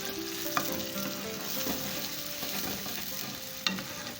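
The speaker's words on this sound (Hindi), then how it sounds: "लाइट ब्राउन करेंगे प्याज को," Sliced medium onions frying in a karahi while being browned, giving a steady close sizzle with soft stirring scrapes and two sharp utensil clinks; no one speaks.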